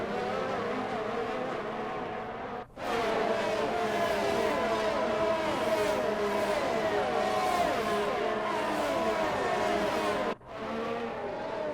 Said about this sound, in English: There's some side-by-side battling between a McLaren and a Mercedes up in the front.